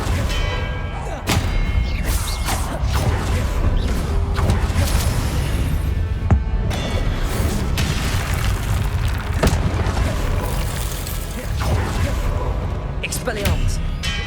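Repeated spell casting during a duel in the Hogwarts Legacy video game, with heavy booming impacts and bell-like clangs over a continuous loud rumble, and a voice talking throughout.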